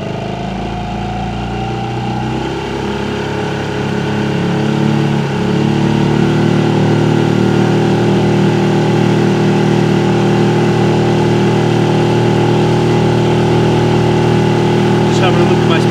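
A 5 horsepower petrol outboard motor on a small boat opens up from a steady run to full throttle, its close, loud droning engine note rising and holding strong for the rest of the stretch.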